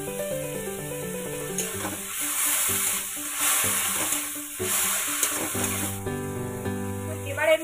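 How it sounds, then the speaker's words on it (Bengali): Pav bhaji vegetables and ginger-garlic paste stirred in a frying pan, a soft sizzle with scraping strokes under background music, fairly quiet and steady. "আরে এই সব কটা উপকরণকে একসাথে একটু নাড়তে হবে"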